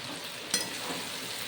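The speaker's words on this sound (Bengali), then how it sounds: "এবার নাড়াচাড়া করে মিশিয়ে নেব। আমগুলো একটু ভাজা ভাজা করে নেব।" Mango-garlic pickle with skin-on mango pieces frying in a pan, a soft steady sizzle with a single sharp scrape of stirring near the middle, close and quiet.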